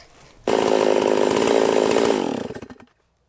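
A 3120 chainsaw, its carburetor screen apparently clogging, cuts wood with a loud, steady roar for about two seconds, then sputters and dies away.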